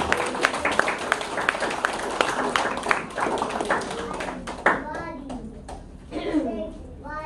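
A crowd clapping together in a room, a dense patter of applause that thins out as voices and children's chatter rise toward the end.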